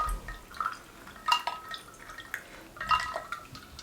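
Chilled ice water from a bowl poured into a lychee juice drink, with soft splashes and a few clinking ice sounds over faint background noise.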